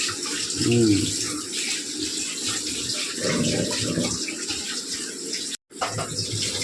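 Fish being washed under a running tap in a kitchen sink, with a steady close rush of water and brief splashing shifts, broken by a short cut near the end.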